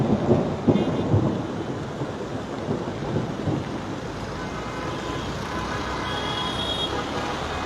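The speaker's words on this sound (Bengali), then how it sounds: "এই বাতাসের পাশাপাশি আমরা দেখছি এখানে বিদ্যুৎ চমকাচ্ছে, অর্থাৎ বিদ্যুৎ চমকাচ্ছে, বৃষ্টি হচ্ছে," Thunderstorm over Dhaka with heavy rain and strong wind, a loud rumbling roar early on easing into a steady wash of rain and gusts, with faint traffic and horn tones in the background.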